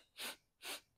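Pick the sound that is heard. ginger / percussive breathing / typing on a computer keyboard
percussive breathing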